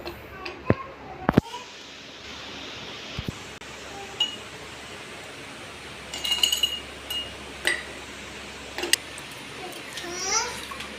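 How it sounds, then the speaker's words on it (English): Ice cubes clink and knock into a glass of lemonade in a few sharp, bright hits near the start, then scattered lighter clinks, with faint children's voices babbling in the background. "Now I will add ice."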